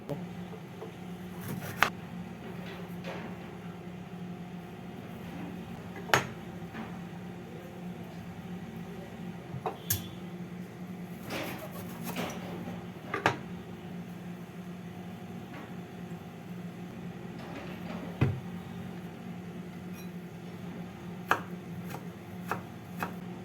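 A knife chops through peeled banana stem (thor) in a home kitchen, giving sharp irregular cutting knocks spread over a steady background hum.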